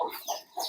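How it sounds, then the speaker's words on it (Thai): Chickens on a rural Lao farm cluck in a few short, close calls in quick succession. "ไก่"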